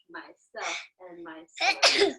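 A voice speaks a few words, then a sharp, loud sneeze bursts out at the end.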